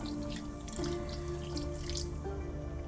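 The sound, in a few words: water poured into simmering gyudon sauce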